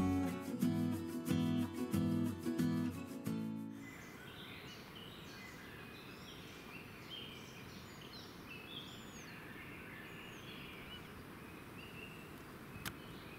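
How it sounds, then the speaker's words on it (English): Birds in the Biebrza marshes chirp and call repeatedly against a soft outdoor hush, with brief music at the start before the birdsong continues alone. "I am already accompanied by countless sounds of birds"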